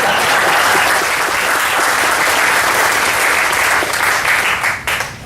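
A crowd at a groundbreaking ceremony breaks into loud, continuous applause that holds steady before tapering off in the last second.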